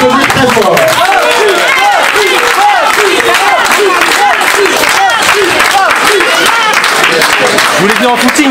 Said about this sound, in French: je crois qu'on peut l'applaudir très fort